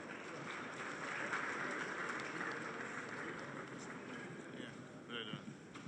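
Guests at a chamber of commerce inauguration dinner applaud in a steady, faint wash of clapping heard from a distance across the hall, continuing evenly throughout.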